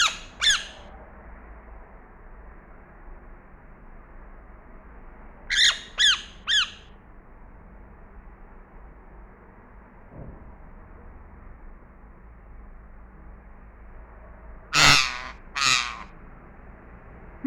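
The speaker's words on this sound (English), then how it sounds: "amazing Indian parrot" An Indian parrot lets out harsh squawks: one at the start, a quick cluster of three midway, then a final loud double squawk near the end, with quiet room noise between calls.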